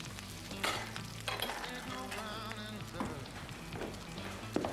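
Pork chop frying in a pan, a steady soft sizzle with occasional crackles and scrapes, underneath music and faint background voices.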